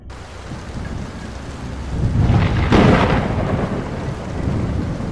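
A thunderstorm sound effect: steady heavy rain hisses throughout while a rolling thunderclap builds and crashes loudly midway, then rumbles on under the downpour.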